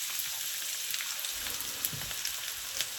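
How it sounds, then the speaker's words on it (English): Thirty to forty shallots fry in heated oil for a prawn curry, making a steady, moderately loud crackling sizzle with a few sharper pops and no talking. "Add shallots to the heated oil."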